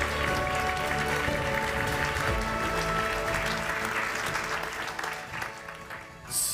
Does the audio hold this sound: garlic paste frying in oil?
no